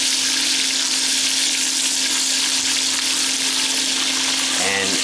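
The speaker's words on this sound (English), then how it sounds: "And then I'm going to put the onions in. Okay. They have to become translucent." Onions sautéing in a pan for a rustic lamb stew, a steady loud broadband sizzle throughout with a low hum underneath and a brief clatter near the end; no talking.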